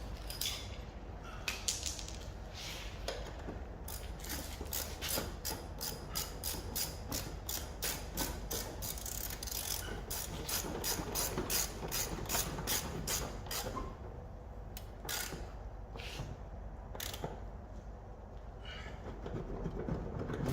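A socket ratchet clicks away on an Alfa Romeo 145 Cloverleaf, its rapid pawl ticks coming in long steady runs and shorter bursts, close by, over a constant low background hum.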